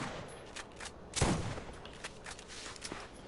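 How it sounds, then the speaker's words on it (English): A shotgun fires in a video game, one loud booming blast standing out among lighter game sounds, with no voices. "that's a slow shooting shotgun, too"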